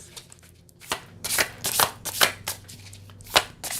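Tarot cards shuffled and drawn by hand, several crisp riffles and snaps arriving in irregular bursts, close and fairly quiet, with no talk.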